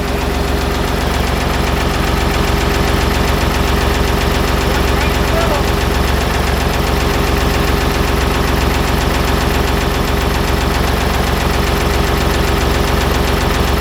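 A John Deere 850J ex-military dozer engine runs without engine oil, giving a loud, continuous diesel rumble with a steady knocking pulse that persists throughout, up close and dominant.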